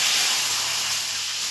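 Curry leaves, added after mustard and cumin seeds, sizzle in hot oil for tempering: a loud, steady close hiss of spattering moisture, continuous without break and with no speech.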